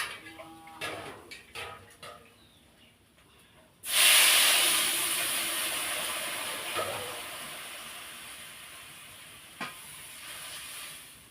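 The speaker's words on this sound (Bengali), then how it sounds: "তো ভাজা হয়ে গেছে, এখন জল ঢেলে দিই।" Water hits a hot pan of fried food with a sudden loud burst of sizzling hiss that slowly fades while it keeps bubbling, after a few seconds of soft kitchen clatter.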